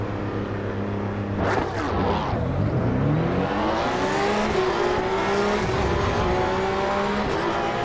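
Cup race car engine in the AC EVO racing game, loud and continuous, revving up and down through gear changes with a sharp rise and dip early, then a steady climbing whine, with faint tire noise.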